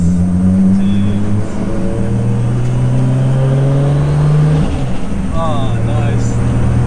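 A built 700 BHP Nissan R33 Skyline GTST's engine and exhaust drone loud and close from inside the car, with rising revs and a brief dip near the middle. Someone talks over it.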